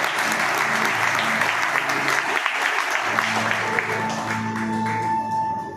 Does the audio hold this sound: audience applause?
yes